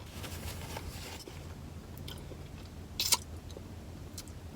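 Someone chews crispy KFC Secret Recipe fries with a crunchy coating, soft close-up mouth sounds with one sharp crunch midway over a low background hum.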